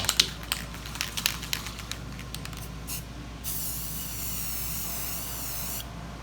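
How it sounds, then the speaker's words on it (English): Spray paint hisses over a taped-off professional mask on a stone monument, a few short bursts with clicks and handling, then one long steady hiss that runs for a couple of seconds and stops. "Now we will spray it"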